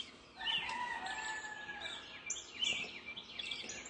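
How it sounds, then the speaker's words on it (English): A rooster crows at a distance, with other birds chirping and calling around it in an open outdoor setting. "Got birds singing, roosters are crowing."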